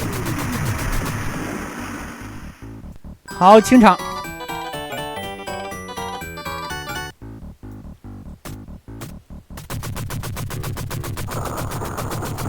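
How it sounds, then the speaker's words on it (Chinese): Gunfire crackles in an arcade shooting video game, with scattered shots and rapid machine-gun bursts between quieter stretches, under a voice talking over the game. "他们在往左侧开枪"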